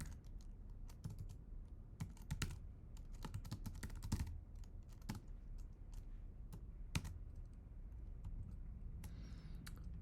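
Fast, irregular typing on a computer keyboard, with close, crisp key clicks in bursts and short pauses, heard alone without speech.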